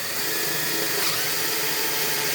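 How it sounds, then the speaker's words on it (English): A power drill bores a hole through two intersecting wooden boards in a shop, giving a steady, close, high whirring grind with no talking. "I'm just going to carefully drill through here."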